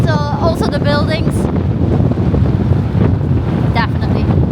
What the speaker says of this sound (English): Oh, it's been very windy, hasn't it?